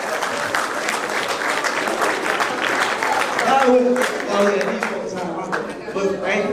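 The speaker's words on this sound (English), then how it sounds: "y'all give a round of applause" Audience applause at a live event, steady clapping throughout with crowd noise and voices talking and calling out over it, fairly close and loud.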